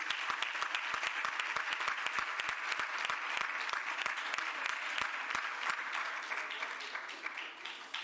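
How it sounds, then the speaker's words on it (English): Hearty applause from an audience at a summer youth internship program celebration, a thick, sustained burst of many hands clapping with crisp individual claps, holding steady before easing off at the end. "give them a hearty round of applause"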